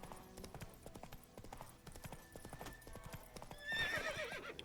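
The horse Roach in The Witcher 3 video game clip-clops steadily along, hooves thudding under game ambience, then lets out a loud neigh near the end.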